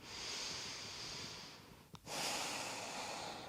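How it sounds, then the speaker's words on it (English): A close, deep breath during a gentle hatha yoga flow: a long airy inhale, a brief pause with a small catch, then a long audible exhale, no talk. "And breathe."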